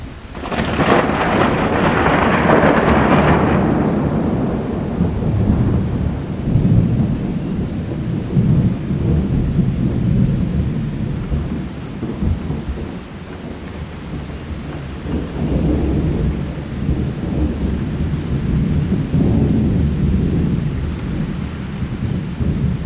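A mountain thunderstorm on a hiking trail, with a loud rolling thunderclap at the start that fades into steady, heavy rain and continuing low rumbles.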